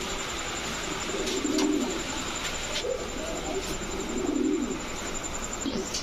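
Soft coos from Khaki pigeons repeat a few times at a steady pace close by, over a constant background hiss.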